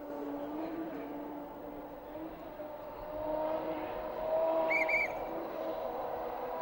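A rally car on a special stage at Rally Finland 2012 howls past on a gravel road, its engine note rising and swelling as it nears, heard from a moderate distance amid outdoor ambience.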